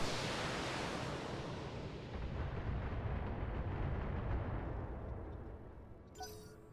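Mechs fire missile salvos in the BattleTech video game, a loud, dense roar of explosions and launches that gradually fades out over several seconds.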